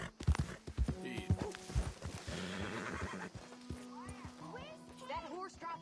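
A horse in Red Dead Redemption 2 whinnies loudly over clip-clopping hooves, with a voice speaking between the calls and several more rising neighs near the end.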